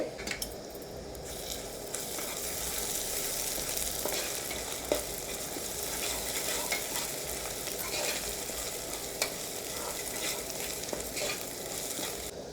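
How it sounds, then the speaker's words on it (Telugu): Ginger garlic paste sizzles with onions in a hot pan for a gongura egg curry, with a soft, continuous frying hiss broken by intermittent stirring scrapes, fairly quiet and close. "అల్లం వెల్లుల్లిపాయ పేస్ట్ వేసేద్దాం ఇది కూడా పచ్చివాసన పోయేదాకా బాగా వేపేద్దామండి"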